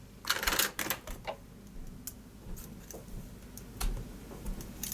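Cardstock is cut for a handmade curvy keepsake gift box, making soft, sparse clicks and snips close by. A denser cluster comes near the start, then scattered single ticks, with no talking.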